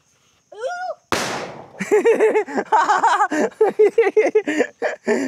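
A Diwali firecracker goes off with one sharp, loud bang and a short crackling decay, then bursts of laughter and lively talk follow close by.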